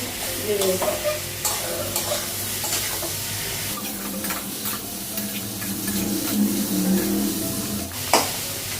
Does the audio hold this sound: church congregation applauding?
no